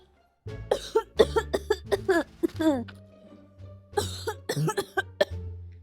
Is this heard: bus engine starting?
no